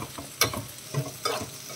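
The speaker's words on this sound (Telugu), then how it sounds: "ఈ విధంగా ఫ్రై చేసుకోవాలి బాగా" Garlic mutton keema frying and being stirred in a pan, with a steady low sizzle broken by three distinct scraping stirs spaced about half a second apart, close up with no talking.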